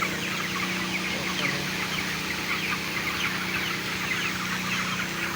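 Many broiler chickens on a farm cluck and murmur together in a dense, continuous chorus over the low steady hum of a motor-driven mist sprayer.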